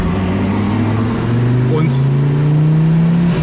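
A turbocharged Audi coupé engine pulls up from about 2000 rpm, its droning tone rising steadily and growing louder, with someone talking over it.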